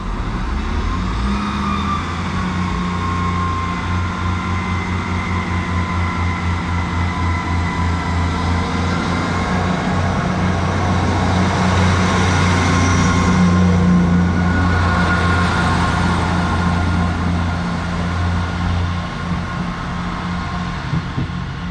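A Class 158 diesel multiple unit, number 158792, departs Pontefract Monkhill station with a loud, sustained engine drone and steady humming tones that build slightly mid-way, heard close and without talk.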